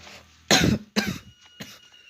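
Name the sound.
cough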